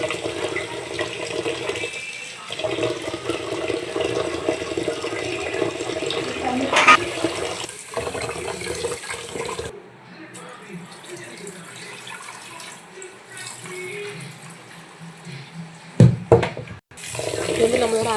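Running water splashes steadily into a sink as raw rice is rinsed, with brief clatters and a pause midway, under faint background noise; a voice speaks softly at times.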